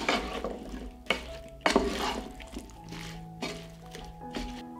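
Chopped potatoes being stirred in a cooking pot, with scraping, squishing strokes and clinks of utensil against metal coming in bursts, close and fairly quiet, with no talking.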